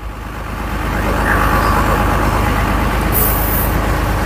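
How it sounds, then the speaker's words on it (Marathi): An excavator digs murrum soil and loads it into a truck, a loud, steady heavy-machinery rumble that swells after the first second, with a brief high hiss near the end. "हे मशीनचं खोदकाम चालू आहे आणि भरणं चालू आहे"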